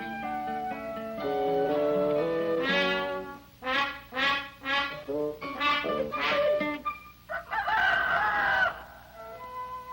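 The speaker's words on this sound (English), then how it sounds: "a rooster, and every other chicken in the yard does what he says." A rooster crows repeatedly in a farmyard while hens cluck around it, loud and close, the crows rising in drawn-out bursts over steady clucking.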